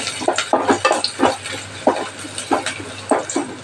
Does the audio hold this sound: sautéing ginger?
yes